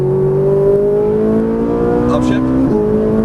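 A Ferrari 458 Italia at full throttle on a racetrack, its engine roaring loud and steady with rising pitch as it accelerates hard, then a brief shift and the climb continuing, while an instructor talks over the engine.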